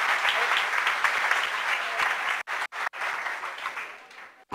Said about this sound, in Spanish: por favor, un aplauso para Bárbara.